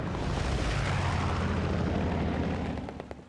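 Strafing-run explosions in a multiplayer war game, a dense continuous roar of blasts and rumbling detonations, loud and sustained before easing off at the end.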